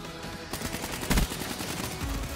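Rapid automatic gunfire from the shooter game Call of Duty Black Ops 3 rattles in a steady burst of repeated shots, loud and close, with a heavier blast near the middle.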